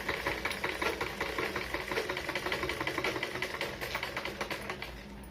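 A sewing machine stitches along the edge of a blouse lining piece, rapid even needle clatter repeating in a fast steady rhythm, close and moderately loud, with no voices.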